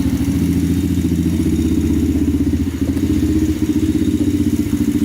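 An old pit bike engine, once run on gas mixed with oil, runs steadily at a loud, close idle with a fast, even putter and slight clatter, holding an unbroken rhythm throughout.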